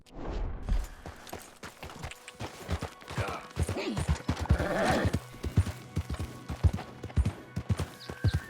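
A horse gallops in Red Dead Redemption 2, rapid rhythmic hoofbeats pounding close and steady, with a brief snort or whinny partway through and faint game ambience underneath.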